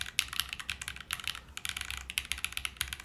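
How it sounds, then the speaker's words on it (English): Rapid, soft keystrokes on a mechanical keyboard with an FR4 plate, a dense close-up run of muted clacks with brief pauses and no talking. "I would say this is a very, very soft typing experience."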